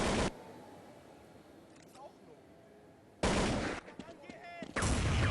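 Loud bursts of gunfire from Counter-Strike 1.6 in a professional tournament match, one sustained volley at the start and another dense stretch of shots near the end, with a caster's voice running through the quieter middle.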